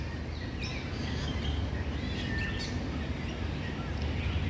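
Several birds chirp and call faintly over a dense, steady background hiss of a nearby waterfall.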